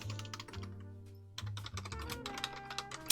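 Fast typing on a computer keyboard gives a dense run of close clicky keystrokes with a brief pause before the rapid tapping resumes.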